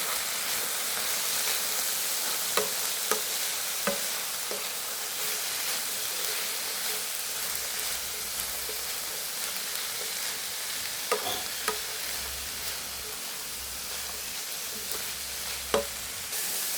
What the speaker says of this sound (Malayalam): ഞാൻ വൻപയർ ഇങ്ങോട്ട് ഇടുവാണ്.